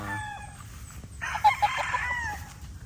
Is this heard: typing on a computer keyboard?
no